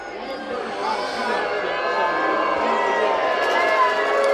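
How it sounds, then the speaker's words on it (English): Arena crowd at a Chicago away shootout roars and jeers at the shooter, a dense, steady wall of voices building slightly over a few seconds. "And he is hearing it from the crowd right now."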